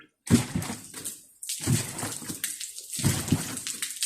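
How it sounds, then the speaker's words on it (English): Water poured over a VW Polo's brake area to rinse off spilled brake fluid, splashing in three separate close bursts with short gaps between them. "Just use some water to wash off any brake fluid that has spilled."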